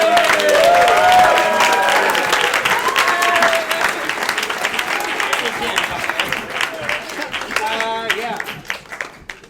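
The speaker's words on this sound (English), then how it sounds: "Give him another round of applause." Audience at an alumni improv comedy show breaks into a round of applause, dense clapping with cheers and a few shouted voices, gradually thinning into scattered claps by the end.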